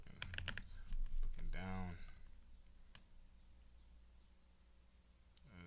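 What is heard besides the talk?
typing on a computer keyboard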